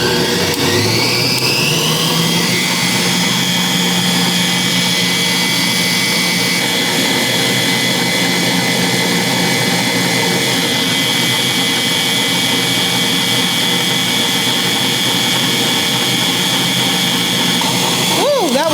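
A CWIIM 660 W tilt-head stand mixer whipping 2 cups of heavy whipping cream on high, a loud steady motor whine that runs continuously throughout, with some talk over it.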